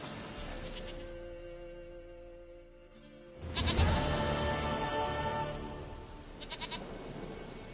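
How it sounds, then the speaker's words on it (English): A goat bleats in the video game Witcher 3, a long wavering cry followed by a second shorter bleat, clear over quiet ambient game sound. "Goat of mine, dearest, sweetest goat."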